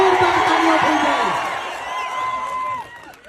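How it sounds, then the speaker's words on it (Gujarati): A large crowd at a political rally in Gujarat cheering loudly, with whoops and shouts carried over applause, the roar holding strong before easing slightly toward the end. "ચૈતરભાઈ વસાવા માટે જોરદાર તાળીઓ થઈ જાય।"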